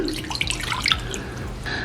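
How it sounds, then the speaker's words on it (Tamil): Half a cup (125 ml) of water pours and splashes steadily into a bowl, with small bubbling drips throughout, close and moderately loud. "இதுக்குள்ள வந்து நான் 1/2 கப் தண்ணி அல்லாட்டிக்கு 125 ml தண்ணி விட போறேன்"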